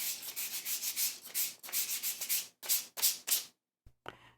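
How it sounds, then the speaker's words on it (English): A handmade wooden cabinet knob is lightly sanded by hand, giving close, rhythmic scratchy strokes in quick bursts with brief pauses, followed by a couple of soft knocks at the end. "Next, lightly sand it to get any loose bits off."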